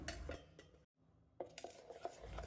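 Separately ground dal and rice batters for masala dosa are tipped into one vessel, with clattering utensil knocks and scraping close by, a brief pause in the middle, then more scraping and clinks.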